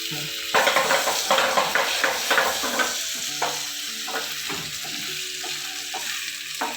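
Stuffed chicken cooking in a pan with a bright, continuous sizzle, punctuated by a run of quick scraping and clinking sounds, close up and without talk.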